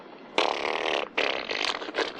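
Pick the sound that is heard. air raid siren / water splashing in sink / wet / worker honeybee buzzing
wet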